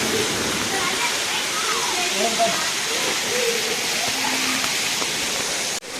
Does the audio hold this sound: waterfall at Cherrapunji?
yes